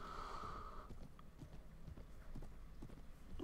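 A horse's hooves clop in a steady walking rhythm in Mount and Blade: Warband, Viking Conquest, with a brief tone fading early and quiet game ambience underneath, faint overall, with no speech.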